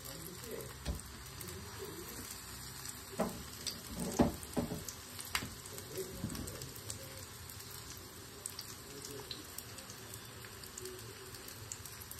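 Paneer pieces frying in a pan give a faint, steady sizzle with scattered soft pops and crackles, quiet and without talk.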